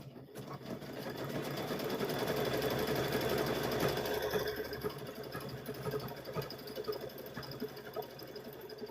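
A sewing machine hums steadily and close, stitching around the edge of a quilted Halloween gnome wizard tote bag with a continuous motor whir that rises and then settles.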